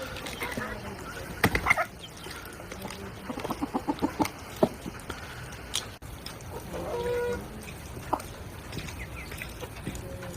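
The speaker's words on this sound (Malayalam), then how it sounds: "കോഴി തീറ്റ കഴിക്കുന്നു" Chickens cluck in short bursts while pecking at scattered feed, a busy rhythmic series of close calls with softer rustling and some human voice in the background.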